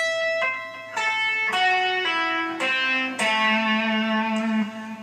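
Electric guitar plays an intervallic Dorian lick slowly, one distinct picked note or two-note shape at a time, about eight clear attacks, each ringing and sustaining into the next with a slightly driven, effected tone and no talking.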